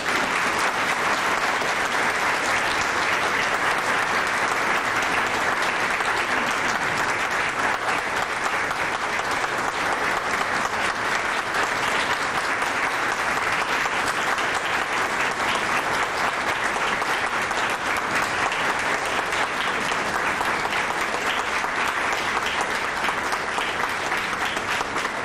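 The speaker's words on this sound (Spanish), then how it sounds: "Para ustedes un aplauso" Large audience at an international education congress at a school applauding, a thick, continuous wash of many hands clapping at an even, loud level throughout with no pauses.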